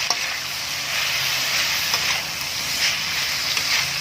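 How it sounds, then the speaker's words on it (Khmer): Continuous crackling sizzle of chicken and ginger stir-frying in a hot pan, with occasional scraping of a utensil against the surface. "ឆាចូលគ្នាឲ្យសព្វ"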